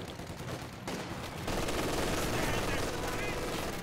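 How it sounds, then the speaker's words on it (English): Dense, continuous machine gun fire and bursts of gunfire in the World War II strategy game Company of Heroes 2, loud and sustained, swelling heavier partway through. "And they even got suppressed by Lipton's machine gun in that house."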